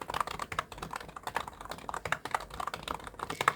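Quick, steady typing on a computer keyboard while entering data into an Excel spreadsheet, with dense light key clicks in a continuous close run.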